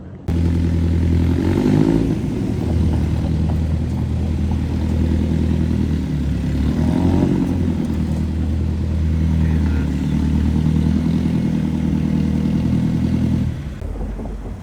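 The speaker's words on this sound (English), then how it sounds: "Something cool is driving down here every couple of seconds too." Cars at a street car event pass close by with loud engine drone and revving, one vehicle rising and falling over roughly thirteen seconds.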